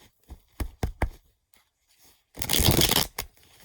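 Tarot cards being shuffled by hand: a few crisp taps and flicks, a pause, then a short burst of riffling and rustling up close, with no talking.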